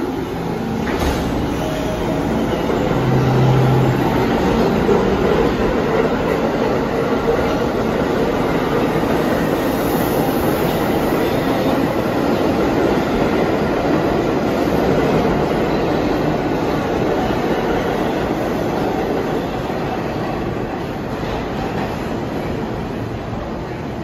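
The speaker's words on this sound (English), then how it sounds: "The R-46s on a Leopard's Boulevard bound train" An R-46 New York City subway train runs toward Lefferts Boulevard, heard from on board as a loud, steady rumbling roar with faint wheel clatter and occasional squeal throughout.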